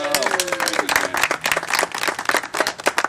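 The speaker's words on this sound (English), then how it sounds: "How about a round of applause for Jim Ledford this morning?" A small audience at a Palmdale press conference claps for Jim Ledford, a sparse, uneven patter of individual hands with distinct sharp claps, while a voice speaks briefly at the start.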